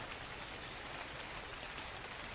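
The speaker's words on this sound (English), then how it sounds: "Starting to rain" Steady rain falling in ARK: Survival Evolved, a dense, even hiss of raindrops spread across the whole short stretch with no other sounds.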